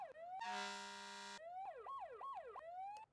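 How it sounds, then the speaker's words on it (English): Emergency siren from a police car in the Flashing Lights game, cycling through a rapid high-pitched yelp tone, then a steady blaring horn burst, then rising and falling wails, loud and close with no talk over it. "Number 2 is lights and sirens."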